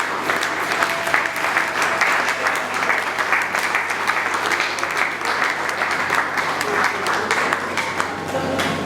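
An audience at a third-anniversary ceremony of a mutual association applauds steadily, a dense, even wash of many hands clapping that holds at full strength for the whole stretch.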